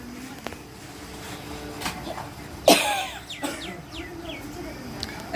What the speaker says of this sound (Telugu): ఇంట్లో అందరికీ దగ్గులు వచ్చినాయండి